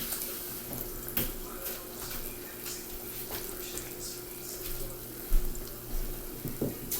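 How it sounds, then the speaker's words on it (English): Water from a kitchen tap runs steadily while hands are rinsed under it, a continuous splashing flow at moderate level with faint background hum. "I'm going to rinse my hands again, because I touched my hair"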